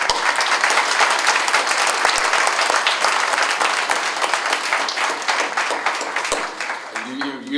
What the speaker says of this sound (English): Let's give another round of applause for all the dignitaries that have endorsed Brian.